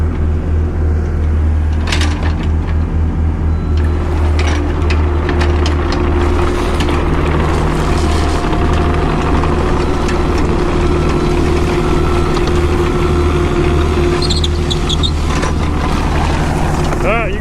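Heavy truck engine idling loudly and steadily close by, a deep constant rumble while delivering a load of rock to a house driveway, with occasional clanks over it.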